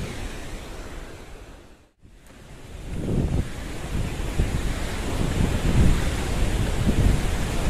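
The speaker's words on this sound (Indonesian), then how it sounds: "kita sudah sampai lebih dekat dengan air terjun Coban Pelangi ya" The Coban Pelangi waterfall roars as a dense, steady rush of falling water, with wind buffeting the microphone and a brief dropout before the roar swells louder and stays continuous.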